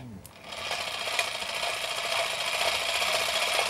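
An old film camera with a freshly loaded magazine runs with a continuous, even mechanical whir after a brief click and a short voice at the start.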